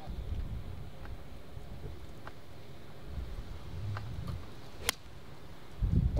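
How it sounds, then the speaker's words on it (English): Wind gusting across a coastal golf course at Mawgan Porth in Cornwall, a steady low rumble buffeting the microphone, with a faint tick or two and a brief sharp click near the end. "It's quite a windy course at times."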